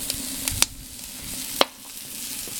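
A burger frying in a pan on a homemade rocket stove grill gives a low, steady sizzle, broken by a couple of sharp metallic clicks and taps nearby.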